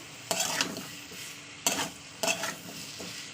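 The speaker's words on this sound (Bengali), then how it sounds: "শুধু হলুদ আর লবণ দিয়েই আমি কষাচ্ছি" Curry with turmeric and salt being stir-fried in oil, with three separate bursts of scraping, sizzling stirring and quiet gaps between them.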